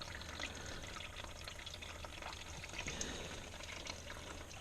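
Engine oil from a 2015 Spyder RT-S 1330 drains into a drain pan as a steady, quiet liquid pour and trickle that runs unbroken for the whole stretch, with no talking.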